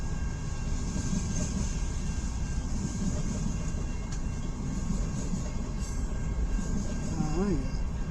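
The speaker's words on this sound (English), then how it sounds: "That's a long train." A long southbound CN M383 freight train rolls past in Richmond, Michigan, a steady loud rumble and rattle of wagons that never lets up, with a brief voice near the end.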